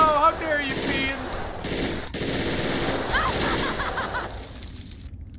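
Submachine gun fire in Fallout New Vegas: a sustained, dense burst of rapid automatic shots that runs almost the whole time at steady loudness, with a brief voice at the very start.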